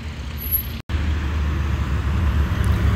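Classic cars rolling past in a parade, a steady low engine and road rumble with a brief dropout midway, moderately loud traffic noise and no speech.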